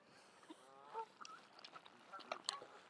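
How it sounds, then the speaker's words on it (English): Geese honk and call in a snowy forest park, a few separate cries scattered over a soft outdoor background, fairly faint and alone. "Just come and feed the poor birds. They're all confused."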